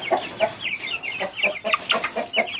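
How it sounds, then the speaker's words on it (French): A Faverolles rooster and hen cluck close by in a farmyard, with a run of short rhythmic clucks and chirpy calls. "Un beau petit coq Favrol avec sa poule."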